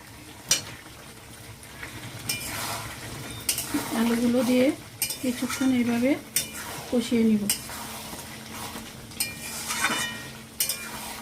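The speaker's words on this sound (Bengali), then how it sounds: "ভেজে রাখা আলুগুলো দিয়ে দিচ্ছি" Fried potatoes tipped into a pot of mutton curry: a close steady sizzle with metal spoon scrapes and clinks against the pot, plus a few brief tonal squeaks midway.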